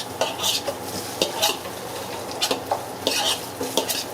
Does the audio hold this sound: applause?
no